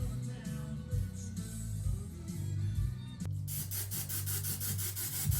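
Coarse dark foam scenery material is rubbed and pressed onto hairsprayed model railroad trees, giving close, soft scratchy rubbing strokes in an uneven rhythm, with a brisker, denser burst of scraping toward the end.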